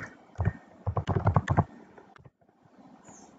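Close typing on a computer keyboard as a short command is entered, a cluster of rapid keystrokes followed by a pause and a couple of final taps.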